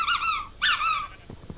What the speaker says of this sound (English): Come on, back to the squeaky toy.